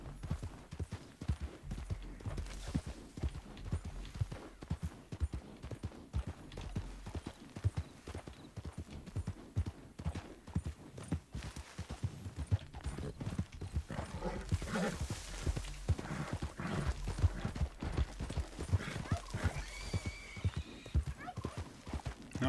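Horses in the western game Red Dead Redemption 2, a steady run of hoof clip-clops going on and on, with a whinny or two, at moderate distance and fairly quiet.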